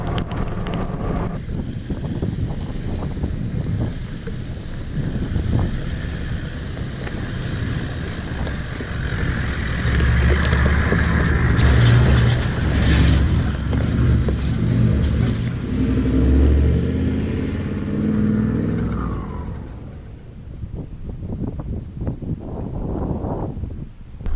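A car drives on an open road past a salt lake, its engine and tyre rumble steady and loud under heavy wind buffeting that swells midway and eases toward the end.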